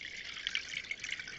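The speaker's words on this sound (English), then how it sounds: "Washing our hands." Tap water running steadily into a sink while hands are washed in a bathroom, a soft continuous hiss and splash with faint drips, close and quiet, no talking.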